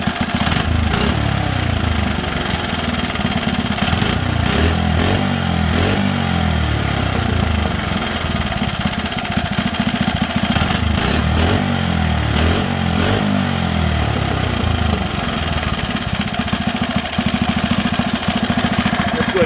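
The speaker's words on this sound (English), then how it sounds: "I'm back to the stock pilot jet, and I'm running a number 80 on the main. It's been idling for about 3 minutes." A mini bike engine running a stock pilot jet and a number 80 main jet idles steadily and loudly throughout, a constant close rumble with slight flutter and no talking.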